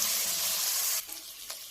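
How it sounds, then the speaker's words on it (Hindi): Garlic paste fries in a hot pan with a loud, close, hissing sizzle that drops abruptly partway through, leaving a quieter crackle. "तो लहसुन हमारा फ्राई हो चुका है"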